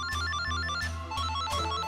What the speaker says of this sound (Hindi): देखो कितने फोन बज रहे हैं